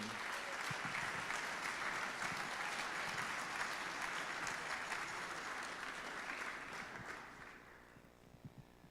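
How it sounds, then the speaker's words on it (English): Applause from an indoor room audience for the captains, a dense, steady clapping that holds for several seconds, then thins out and fades to a few scattered claps. "a round of applause to all of our captains in the room"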